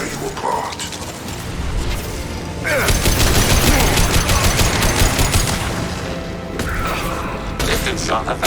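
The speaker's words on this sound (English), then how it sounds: "Hostile fire. Taking cover." A Mass Effect 2 firefight brings rapid, rattling gunfire with mechanical clatter and booms, steady and fairly loud, swelling in the middle; game voices speak over the shooting.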